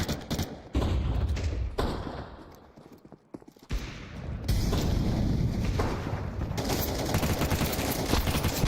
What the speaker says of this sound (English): Grenade. Fire in the hole. Smoke. Throwing flashbang.